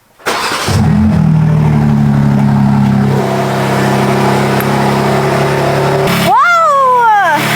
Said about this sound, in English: I'm gonna turn the car on before I put everything back together and see if it works.